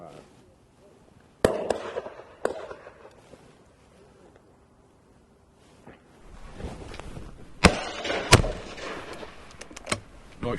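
Shotguns fire at a driven game shoot on a country estate, with several sharp distant bangs spread across the clip and a closer cluster of shots near the end, under quiet outdoor ambience.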